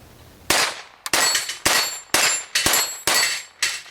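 Seven sharp metallic clangs from a Ruger Mark III Hunter .22 pistol's bullets striking steel targets outdoors, spaced roughly half a second apart, each ringing briefly with no talk.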